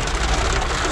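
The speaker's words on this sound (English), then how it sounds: "I'm filming a hailstorm" A hailstorm pelting down: dense, steady drumming of ice on hard surfaces, loud and continuous, with no voices.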